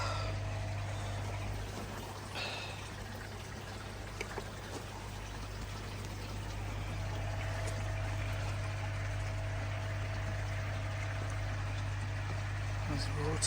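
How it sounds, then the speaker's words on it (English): Water running out after pumping, a steady trickling pour over a constant low mechanical hum, with a person speaking nearby. "There's the water."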